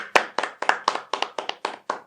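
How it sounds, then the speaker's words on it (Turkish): One person claps alone, about nine sharp, close hand claps in a steady rhythm in honour of everyone serving the flag. "Buradan bu bayrağa hizmet eden herkesi kocaman kendi adıma alkışlıyorum."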